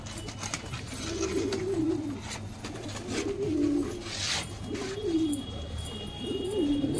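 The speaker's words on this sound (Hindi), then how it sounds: "ये देखो बहुत हसीन कबूतरी है" Pigeons coo in soft, repeated throaty phrases, close by, with brief pauses between calls over a faint background hum.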